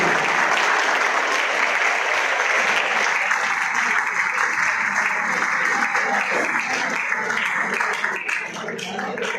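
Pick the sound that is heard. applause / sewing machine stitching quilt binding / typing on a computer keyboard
applause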